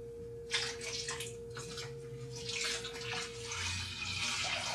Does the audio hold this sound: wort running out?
yes